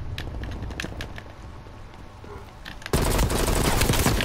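Automatic gunfire from a Call of Duty Black Ops Cold War match, with scattered shots early on and then a sustained loud burst of rapid fire for the last second and a half.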